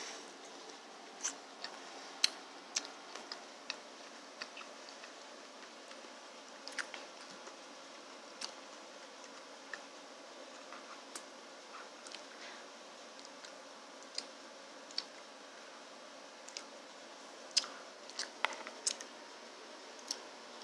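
Someone bites into and chews a juicy apple close up, with sparse crisp crunches and small wet clicks over a quiet background and no talking.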